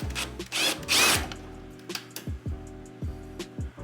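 A power drill spins out a screw from an LG dryer during a thermal fuse and thermostat repair, a loud close whirring burst followed by several short ratcheting pulses of the bit.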